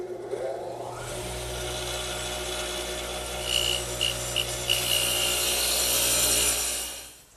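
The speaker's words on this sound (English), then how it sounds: "to cut the tenons, I'm going to use my radial arm with the dado head cutter as before" A radial arm saw fitted with a dado head cutter cuts tenons in wood for a chair-table, giving a steady, dense whirring roar over a low motor hum that fades out at the end.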